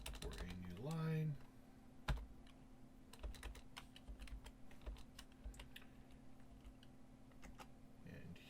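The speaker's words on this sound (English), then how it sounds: "And here we type else and curly bracers." Code is typed on a computer keyboard in soft, scattered clicks and taps, fairly quiet and close, with a brief tonal sound at the start and no talking.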